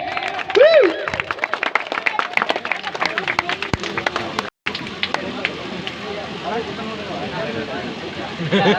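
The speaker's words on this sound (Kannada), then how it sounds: "ಬರ್ಲಿ ಒಂದು ಚಪ್ಪಾಳೆ ಚಪ್ಪಾಳೆ" Audience applause at an orchestra troupe's stage show, a dense patter of claps filling the whole stretch with a short break midway, heard under a voice talking over the crowd.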